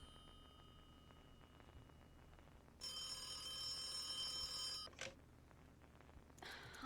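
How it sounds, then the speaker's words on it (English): A telephone rings in the video game The Occupation, a bright electronic trill lasting about two seconds over a low, steady ambient hum, followed by a short click. "Harvey Miller, do you ever answer your phone?"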